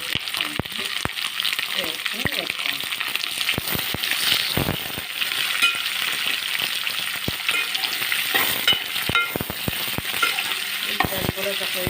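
Sliced onions frying with dried shrimp in a pan for a tamarind-leaf curry, a dense continuous crackling sizzle with frequent sharp ticks and spoon clatter, close and steady, with no speech.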